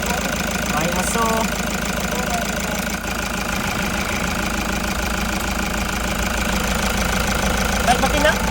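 A Toyota Hiace van's engine runs steadily during a test drive, a loud continuous mid-pitched drone with a faint knocking texture and vibration throughout, with no clear change in pace.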